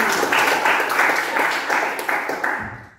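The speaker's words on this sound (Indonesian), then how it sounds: "tepuk tangan dong buat Lati" Students in a classroom applaud a classmate named Lati, steady, moderately loud group clapping that fades out within a few seconds.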